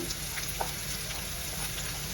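Tempering spices sizzle and crackle in hot oil in a pan while cooking plantain, a continuous close frying hiss broken by small scattered pops.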